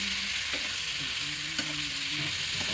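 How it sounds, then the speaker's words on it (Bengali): Mixed winter vegetables stirred while frying in a pan: a dense, steady sizzle up close with occasional soft spatula knocks and faint tonal hums underneath. "তো দেখো সবজিগুলো আমি সব দিয়ে দিয়েছি, এটাকে একটু ভালো করে নেড়ে নিচ্ছি"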